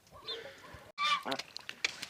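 Loud goose honks burst out after a brief pause, a few harsh calls close by, with softer fowl chatter before them.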